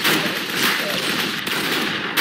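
Rapid automatic gunfire from the Roblox shooter Arsenal rattles in a dense, continuous burst, loud and close, with a voice partly mixed in.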